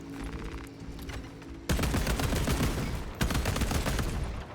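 Auto bolt rifle fire in Warhammer 40k: Space Marine 2, a dense, loud stream of rapid shots that starts with a sharp burst partway through and swells again near the end over low battle rumble.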